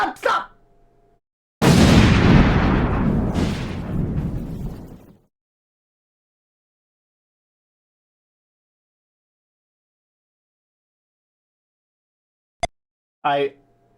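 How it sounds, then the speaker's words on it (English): A loud explosion sound effect on a live stream, a sudden broad boom that roars for about three seconds and then cuts off, followed by silence, brief bursts of voice at the start and end. "The delay on that explosion threw me for a loop."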